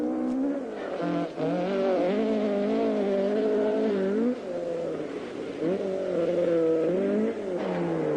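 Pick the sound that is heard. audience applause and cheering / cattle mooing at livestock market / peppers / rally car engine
rally car engine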